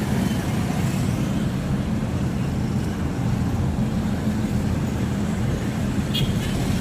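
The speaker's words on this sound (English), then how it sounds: "And this is the sound of Kampala city centre." Kampala city centre street traffic heard from inside a car, a steady dense rumble of engines and passing vehicles with a brief higher sound near the end, no talking.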